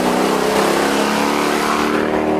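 A 1996 Toyota Land Cruiser engine revs loud and close, a steady mid-pitched roar that holds throughout with a slight swell near the start.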